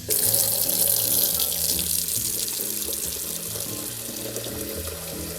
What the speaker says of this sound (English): we're going to fill our basin up with water that's around 100 degrees Fahrenheit